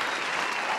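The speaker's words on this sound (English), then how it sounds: "Let's hit the round of applause." Studio applause on a podcast set, a short dense burst of clapping that fills the whole moment evenly at moderate loudness, with no voices over it.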